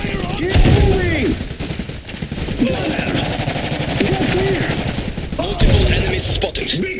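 Rapid machine-gun and rifle fire rattles through a 3 vs 3 skirmish on the Restless Woods map in the video game Iron Harvest, loud and sustained, mixed with voiced unit callouts.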